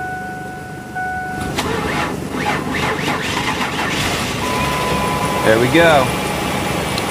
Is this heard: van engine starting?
yes